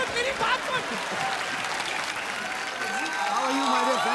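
Studio audience on a television comedy show applauding a singer: sustained, full clapping and cheering, with voices calling out over it and a sung or whooping tone near the end.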